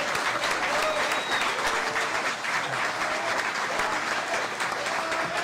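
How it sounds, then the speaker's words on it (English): A crowd at Governor Abbott's press conference in Floresville bursts into loud, sustained applause that stays even from start to finish, with a few faint voices and cheers mixed into the clapping. "Let's give him a big round of applause and his family."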